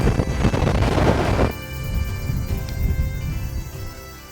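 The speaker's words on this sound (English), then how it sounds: "A little bit windy, guys." Wind buffets the microphone on a golf course in a loud rumbling gust, then eases into a steadier, softer blowing sound.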